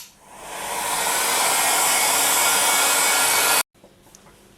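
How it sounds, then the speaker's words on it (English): A heat gun blows steadily while drying polymer clay, a loud continuous airy whoosh that builds up and then cuts off abruptly near the end, leaving faint quiet handling noise. "So I'll just grab my heat gun. Again, remember you can use a hairdryer, and I'm just going to dry it."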